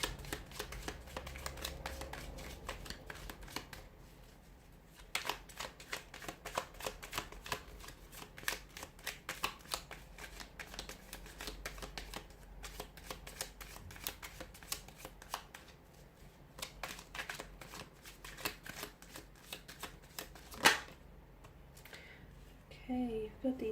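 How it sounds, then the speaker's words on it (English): A deck of tarot cards is shuffled by hand throughout, a steady run of soft riffling flutters and crisp card snaps, close and fairly quiet, with no talking over it. "give the cards a shuffle"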